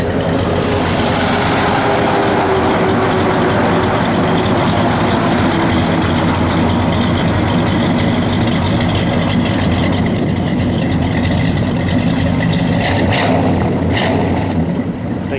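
A 1970 Pontiac GTO idling: a loud, steady, deep engine rumble that runs unbroken and close throughout, with no talking over it.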